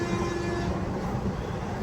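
The Chennai Central to Visakhapatnam weekly superfast express pulls into Eluru railway station with a steady low rumble and a faint sustained tonal hum, continuous throughout and free of talk.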